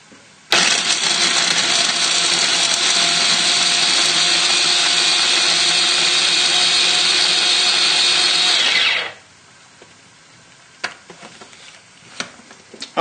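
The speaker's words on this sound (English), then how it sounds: "So we just want to blend it so that it effectively does all the chopping up for you." A blender whirs for about eight seconds, chopping green chilies, herbs and other Thai green curry paste ingredients, a loud steady motor drone that starts abruptly and then winds down, leaving quiet kitchen clatter.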